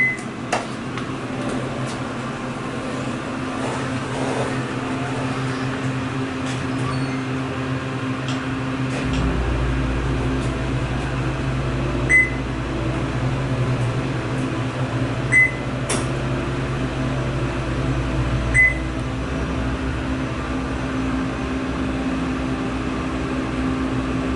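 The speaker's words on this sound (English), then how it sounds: "these are Fujitec elevators with Series M2 button replacements by Otis" A Fujitec hydraulic elevator at Disney's Pop Century Resort runs with a steady low motor hum and broadband whir throughout, with a few faint chime-like ticks along the way and no talking.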